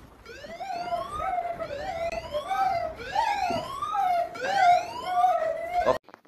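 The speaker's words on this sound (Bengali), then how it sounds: "এরকম অ্যালার্ম বেজে উঠবে" A phone's anti-theft alarm blares a loud, repeating wailing siren pattern of rising sweeps, cycling several times before cutting off abruptly at the end.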